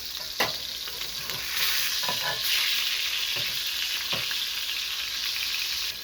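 A Wagyu beef burger patty fries in a pan with a constant close sizzle, broken by a few sharp pops and clicks from the spatula.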